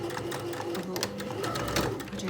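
A sewing machine stitches the handle of a reversible tote bag, running with a steady, rapid mechanical whir at close range, with a voice talking over it.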